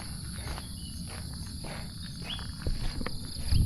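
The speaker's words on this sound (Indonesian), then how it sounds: "suara hening seperti ini, suara jangkrik" Crickets chirping in a quiet, empty forest, a steady thin high trill over soft rustling and faint footsteps, calm and continuous.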